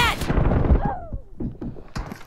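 Sniper rifle fire rings out in a PUBG Mobile team deathmatch, starting with a loud close shot and ringing tail, followed by several fainter reports and tapping sounds.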